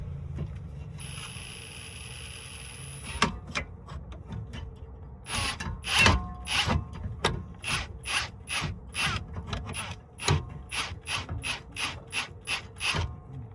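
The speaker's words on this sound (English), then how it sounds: "what I'm gonna use is a chuck on my drill to go ahead and back this off" A drill driving a chuck to turn back the brake caliper piston on a 2008 Honda Accord, heard as a near, fast series of ratcheting mechanical clicks and whirring bursts, with a steady hum underneath.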